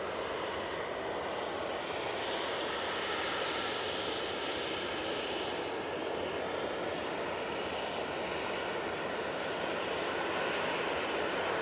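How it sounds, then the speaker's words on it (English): An EasyJet airliner takes off from Manchester Airport bound for Amsterdam, a steady, broad jet roar held at a fairly even level from a distance throughout, with no talking. "So, EasyJet off to Amsterdam's finally been given a slot."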